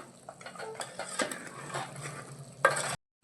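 Mutton liver curry stirred in a pan, the spoon scraping and clinking against the metal in steady strokes over a soft background sizzle, close and fairly quiet, ending in a sharper scrape.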